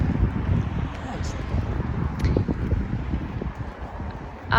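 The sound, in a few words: wind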